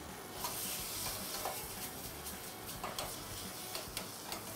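Dal being stirred and warmed in a moderately hot pan with butter, giving a soft steady sizzle with scattered scraping clicks from the spoon, close and fairly quiet throughout.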